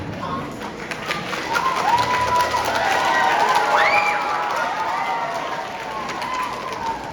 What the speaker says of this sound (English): I said give them a loud ovation